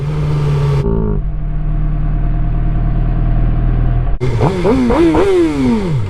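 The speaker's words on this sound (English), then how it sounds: "Yeah, I had to rev it up for those kids." A 2015 Suzuki GSX-R600 sport motorcycle engine roars nearby, drops to a rumbling idle, then revs sharply several times in quick bursts.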